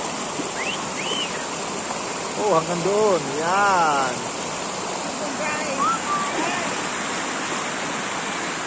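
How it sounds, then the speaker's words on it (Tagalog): A long river flows with a constant broadband rush of water that fills the whole clip, while someone talks over it and a few whistling or chirping tones briefly rise above the flow. "Mahaba itong ilog guys."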